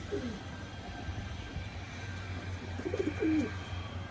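Pigeons coo softly at a distance in two short, low bursts, one near the start and one later, over a faint steady background hum.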